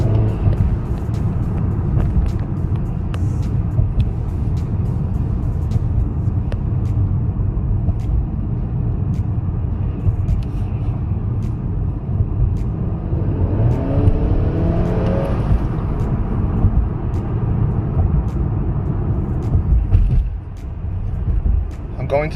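A Honda Accord 2.0T with a catted downpipe and Stage 2 tune accelerating hard, a steady droning engine and road roar from inside the cabin with a brief turbo whoosh, while someone talks over it.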